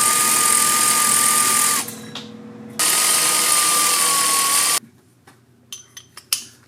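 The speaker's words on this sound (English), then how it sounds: "I'll use an air hammer to knock it loose." A pneumatic air hammer buzzes in two sustained loud bursts against the turbo Y collector of a 2003 Ford Excursion 7.3 diesel, separated by a short pause, followed by a few sharp metallic knocks and clanks up close.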